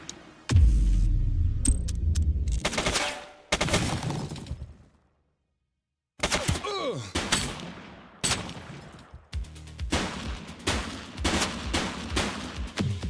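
Bursts of gunfire from a suspect in the police game The Precinct, loud rapid cracks and sharp impacts in clusters, broken by a couple of seconds of silence before more shots and noise resume.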